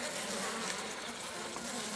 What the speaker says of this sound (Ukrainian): бджоли буянять